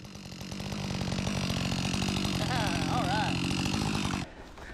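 A Husqvarna chainsaw runs steadily at high revs while cutting wind-storm-downed timber, loud and close. The engine note wavers for a moment partway through, then the saw drops back toward idle near the end.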